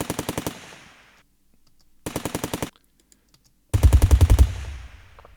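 Machine gun sound effect in three short bursts of rapid automatic fire separated by silences, the last burst carrying a heavy added low-end rumble from a subharmonic processor.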